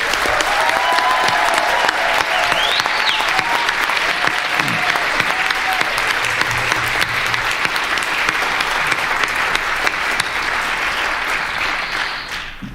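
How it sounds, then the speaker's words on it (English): A room full of people at a 2022 Gallatin County Democratic candidate debate gives sustained, warm applause, loud and dense throughout before tapering off at the very end. "I'd like all of us to give them a warm round of applause"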